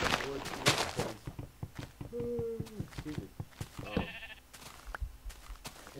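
Sheep in Minecraft give a short, pitched bleat amid a stream of blocky footsteps and clicks, with a player talking over the game sounds.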